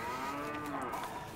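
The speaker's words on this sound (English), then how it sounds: "There's a cow." A cow moos in the video game A Way Out, one sustained, fairly loud low lowing call heard alone without talk.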